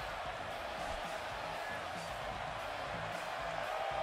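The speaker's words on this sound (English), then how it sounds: "And Michael, it sounds to me like this crowd already picked the one who they want to win this match" Arena crowd noise from a WWE wrestling video game, a steady dense roar of cheering and murmuring that holds at an even level throughout, with no clear words over it.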